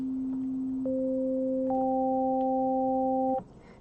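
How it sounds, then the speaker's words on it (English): Synthesizer sine wave notes stacked one after another: a low pure tone, then a second and a third higher tone join in, holding together as a steady chord before cutting off, with faint background noise and no talk. "I'm going to switch it back to a sine wave, and I'm going to play more than one note."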